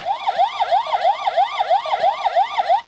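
A Transformers Rescue Bots headquarters toy plays an electronic siren when its fire ladder is raised, a loud, steady wailing tone rising and falling about every quarter second for nearly three seconds, then cutting off abruptly.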